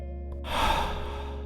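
A single deep breath, a soft airy inhale swelling after a brief quiet start and then trailing off, close and gentle with no talking.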